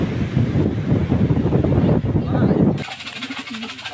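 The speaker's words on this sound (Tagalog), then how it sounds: "masyadong mahangin." Strong wind buffets the microphone on a beach at a resort in General Santos City, a loud continuous roar that suddenly shifts to a lighter rushing with faint tones near the end.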